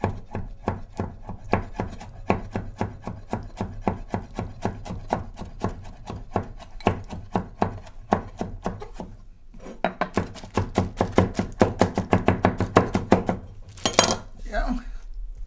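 A knife chops food finely on a cutting board with steady, rapid, close taps that quicken in the second half, with no talk over it, for a barbecue teriyaki salmon dish.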